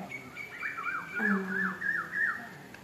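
A sparrow, perched on electric wires, gives a run of bright, rising and falling chirps in quick succession, fairly close and clear with little else around.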